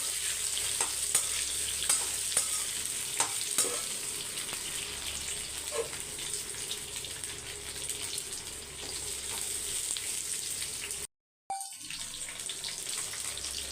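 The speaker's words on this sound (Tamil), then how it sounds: "ஒரு அஞ்சு நிமிஷம் முருங்கைக்காவை நல்லா வதக்கிக்கோங்க" Drumsticks sauté in a pan with tempering for sambar, giving a steady sizzle and frying hiss with a few sharp stirring clinks, cut by one abrupt brief dropout near the end.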